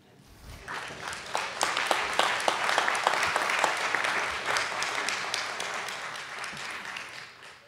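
A large audience applauds steadily at a building dedication ceremony, with dense, sustained clapping that swells early, holds, then gradually thins out near the end.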